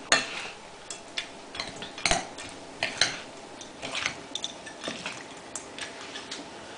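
A spoon stirs a quinoa salad with toasted pecans in a bowl, making a steady series of close scraping clinks and soft wet mixing sounds, with no talk.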